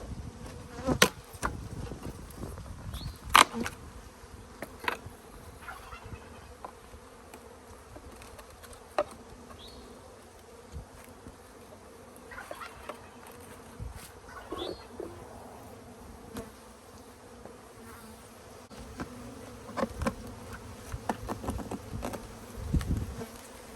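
Honeybees buzz steadily in the background for the whole stretch while a bee package is added to a hive, with scattered clicks and knocks from handling close by. No one speaks.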